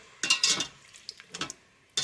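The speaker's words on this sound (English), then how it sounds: "And give it a little stir." A utensil stirs pork belly braising liquid with cooking sake inside an Instant Pot, giving a few short scraping and clinking strokes separated by quiet gaps, close by.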